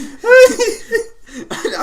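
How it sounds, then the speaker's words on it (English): A short, loud cough burst from a nearby voice, followed by a rougher second cough or throat clear. "Apologies for the coughing."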